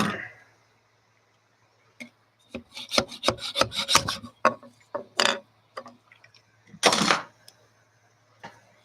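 A hand scraper rubs a printed part off the bed of an Adimlab 3D printer in a series of short, rasping scrapes, irregular and close, with quiet gaps between strokes.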